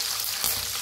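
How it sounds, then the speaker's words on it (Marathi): Green chili, red chili and curry leaves fry in hot oil with a little asafoetida and peanuts, giving a steady close sizzle that holds level throughout, with one brief louder crackle midway. "भाजून घेऊया।"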